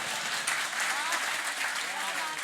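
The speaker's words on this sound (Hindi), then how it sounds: "लेकिन ताली आपने बराबर बजाई" An audience at an evening poetry and shayari recital in Aliganj, Lucknow, applauds in a dense, steady wash of clapping that fills the hall throughout.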